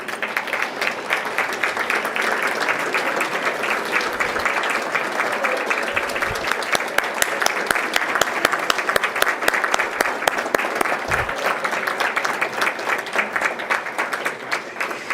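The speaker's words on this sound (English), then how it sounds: "And now let's give you a good round of applause." Sustained audience applause at a scholarship gala, a dense, steady wash of many hands clapping throughout, loud and continuous with no speech over it.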